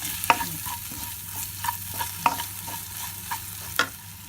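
Mutton brain, cooked head meat and egg stir-fried together for a dry fry, with a low sizzle and a few distinct spatula knocks and scrapes against the pan, close by and with no speech.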